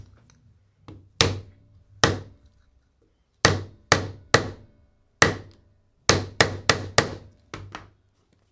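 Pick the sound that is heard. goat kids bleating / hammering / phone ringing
hammering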